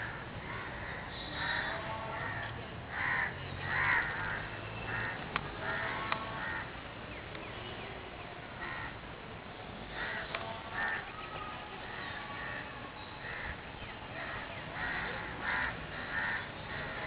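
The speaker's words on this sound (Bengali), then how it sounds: "অনেক কাক।" Many crows cawing repeatedly outdoors, a dense scattered chorus of harsh calls, some near and some farther off, over steady background noise with no talk.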